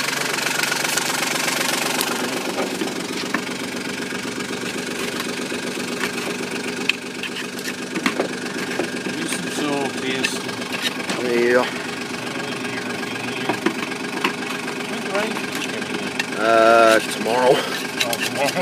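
A car engine idles roughly at a stop, close by as a steady, low, uneven rumble, while people talk over it.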